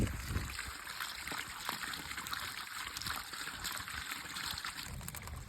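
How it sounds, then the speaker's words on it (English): Water runs steadily through a homemade pipe at an off-grid camp, a continuous trickling wash with faint background noise and no clear talk. "water's running with my special pipe"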